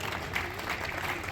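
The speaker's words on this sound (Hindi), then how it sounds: "अब तालियां बजती रहे" Applause at a play school grand opening ceremony, a brief steady patter of clapping from a small gathered crowd, moderately near and continuous.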